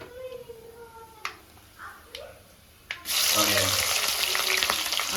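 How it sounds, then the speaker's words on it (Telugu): Onions drop into hot oil in a kadai for chicken biryani and begin frying: after a few soft clanks and taps, a loud, steady sizzle bursts in and continues to the end. "ఆనియన్స్ బాగా బ్రౌన్ కలర్ వచ్చేంత వరకు ఫ్రై చేయాలి"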